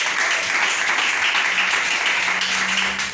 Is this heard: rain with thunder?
no